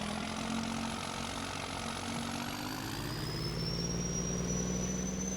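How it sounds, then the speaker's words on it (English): A farm tractor engine idles steadily with a constant low rumble and faint whining tones, loud and close throughout. "I gotta shut this tractor off real quick."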